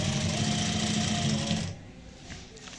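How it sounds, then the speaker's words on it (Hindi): A sewing machine stitches the side seam of a saree, running as a loud, steady whirring hum close by for about a second and a half before stopping, followed by quiet handling. "और अब लगाएंगे यहाँ पे इस साइड की सिलाई ये वाली"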